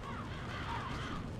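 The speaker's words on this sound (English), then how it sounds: "Did these birds attack?" Crows caw in the dark fantasy video game Demon's Souls, a faint, steady ambient cry under a low background hum, with no talk over it.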